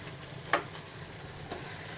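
Mustard paste sizzles as it hits mangoes frying in a pan for pickle, with a quiet steady fry, one sharp stirring clatter near the start and a softer tap later, no talk.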